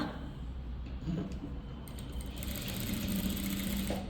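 A sewing machine stitches the side of a boat neck on a garment, a steady close motor hum with a faint high whine running throughout.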